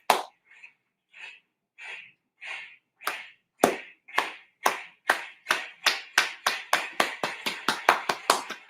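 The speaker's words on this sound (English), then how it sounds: "We want to give you some claps." A welcoming round of hand claps for a hip hop podcast guest, starting as slow, spaced claps and speeding into a rapid, accelerating burst, close and crisp with no talking.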